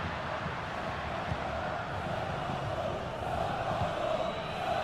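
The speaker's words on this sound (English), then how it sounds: "Being egged on by the crowd." Stadium crowd in a football video game, a dense steady roar of many voices at a distance, continuous without clear peaks.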